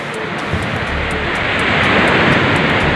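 Ocean surf on a beach gives a loud, broad, continuous rushing wash that swells slightly, mixed with strong wind buffeting the microphone.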